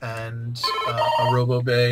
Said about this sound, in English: and that is my phone going off